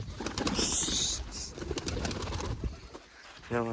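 Wild pigeons gathered at a pigeon tower coo in a steady, busy chorus, with bright chirps and a brief flutter of wings over constant outdoor noise.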